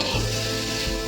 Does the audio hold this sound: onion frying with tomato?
yes